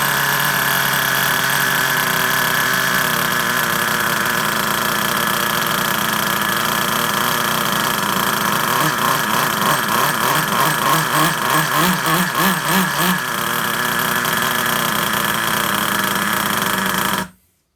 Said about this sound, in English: we're going to fire this back up now and see if we can get a decent idle at it.